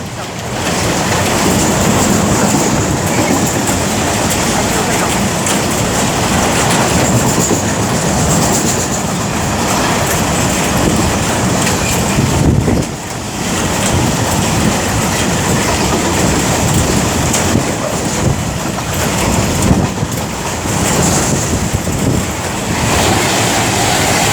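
An Avanti West Coast passenger train rumbles through Milton Keynes Central station on the West Coast Main Line at close range, a loud steady roar of wheels and carriages with faint clattering throughout, no talking.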